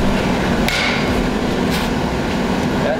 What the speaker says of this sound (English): come in, flat side of your hammer, and gently flatten all this down